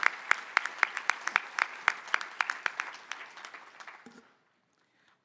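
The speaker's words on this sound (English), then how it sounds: "Please help me in recognizing Gabriel with a round of applause." An audience at an awards ceremony gives a round of applause for an award recipient, with sharp, fairly close claps that thin out and stop near the end, followed by near silence.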